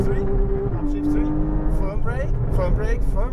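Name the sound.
Porsche Cayman GTS driving on race track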